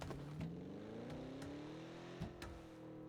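A car engine in the video game PUBG hums and climbs steadily in pitch as it accelerates, faint and smooth, with a few sharp clicks over it and no talk.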